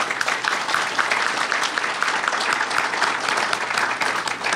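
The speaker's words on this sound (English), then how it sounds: "maybe we should give Mark a big round of applause" A lecture audience at the Green Family Lecture bursts into dense, continuous applause. Many hands clap evenly and loudly without letup, with no voices above it.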